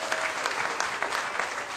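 Married members of a comedy club audience applaud steadily at a stand-up show, a dense wash of clapping from a moderately close crowd that carries on alone for the whole stretch.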